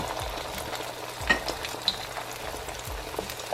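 Egg foo young batter sizzles steadily in a hot pan, a continuous moderate frying hiss with a few soft clicks of a utensil against the pan.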